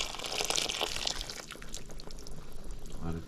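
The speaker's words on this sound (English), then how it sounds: "So I'll add" Water pours into a pot of snapper stew, a soft splashing trickle over a faint kitchen hum that fades partway before a brief bubbling at the end.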